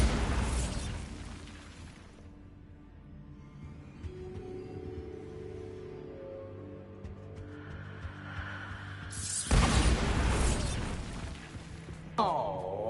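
In the video game Hogwarts Legacy, the Bombarda spell fires with a loud, sharp blast that trails into a rumbling decay over several seconds, and then a second powerful burst erupts near the end with a softer impact after it, with no talk.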